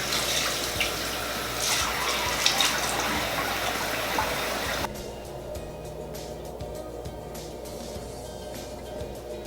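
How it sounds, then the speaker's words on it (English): Tap water runs steadily into a sink for about five seconds during a face rinse, a broad rushing splash, then cuts off, leaving faint drips and small handling sounds. "turn the tap on, and then I'm just going to rinse it off"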